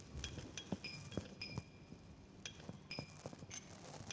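A Sprunki video game sound effect imitating ice cubes dropping into a glass: a sparse series of bright glassy clinks and tinkles, some with short ringing tones, quiet and close with no talking.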